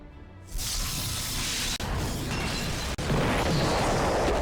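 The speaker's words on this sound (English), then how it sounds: "I have my cursor currently hovered over another explosion sound effect" A video game explosion from Final Fantasy XIV hits with a loud burst and rolls into a broad, sustained roar that holds steady for several seconds, with two brief dips in the blast.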